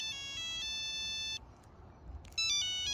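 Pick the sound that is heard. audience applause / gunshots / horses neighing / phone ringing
phone ringing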